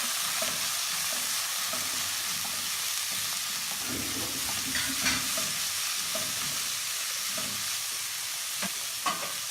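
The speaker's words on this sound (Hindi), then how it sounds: "इसमें शिमला मिर्च बारीक कटी हुई, सब्ज़ मिर्चें डालें और इसको हल्का सा फ्राई करें" Beef with finely chopped capsicum and green chillies lightly frying, a constant close hiss of sizzling oil with occasional stirring scrapes and clinks, no voices.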